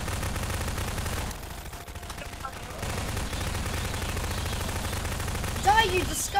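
Submachine gun fire in a Garry's Mod horror map set in a hellish prison: bursts of rapid shots over a muffled game backdrop, with sharper, louder shots and squeals near the end.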